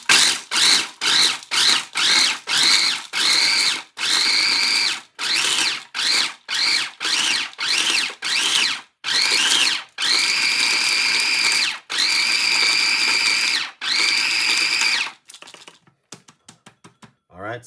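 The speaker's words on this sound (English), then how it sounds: "I'm going to blend this a little bit right now." Kitchen blender chopping ingredients for a morning tonic, running in many short loud pulses and then longer whirring bursts before stopping, close and dominant with no speech over it.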